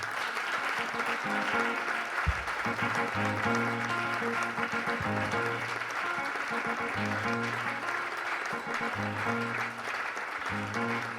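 A church congregation applauds steadily for the whole stretch, with dense clapping mixed with music and scattered voices throughout.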